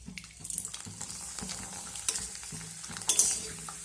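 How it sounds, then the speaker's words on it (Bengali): Flour papad frying in hot oil in a wok: a close, steady crackling sizzle with repeated sharper bursts as the papad hits the oil, and no talking. "এখন আমি গরম তেলের মধ্যে পাঁপড় দিয়ে দিলাম।"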